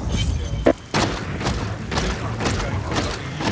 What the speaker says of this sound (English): Sounds like gun's going off